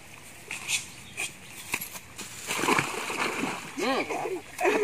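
Water splashes and sloshes intermittently as someone swims through it, while people talk nearby over the splashing.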